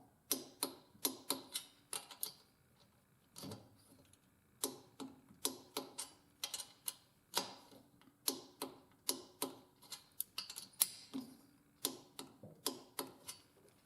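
Torque wrench clicking repeatedly while cylinder head bolts are checked on a Yamaha YL1 motorcycle engine; sharp, close mechanical clicks arrive in quick bursts with short pauses between bolts, and no voices.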